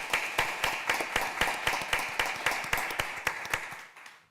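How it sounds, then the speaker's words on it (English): A small group applauding at a supervisors' meeting, a sparse and fairly quiet patter of claps at a steady rhythm that thins out and fades near the end. "So if we could have a round of applause for MPS and congratulate them."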